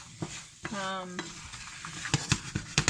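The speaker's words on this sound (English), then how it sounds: "So you want to keep stirring them, watching them, mixing them in." Pecans toasting in butter in a pan get stirred, with spoon scrapes and clacks of nuts against the pan over a light sizzle, plus a brief tonal squeak early on; close and fairly loud.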